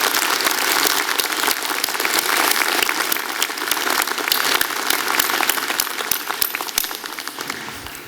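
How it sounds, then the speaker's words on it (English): Audience at a university convocation ceremony for the Faculty of Health and Social Development applauds its students, a dense, steady crowd clapping that carries throughout at full strength and tapers slightly near the end. "I'd like to ask for a round of applause for our students who made that building possible."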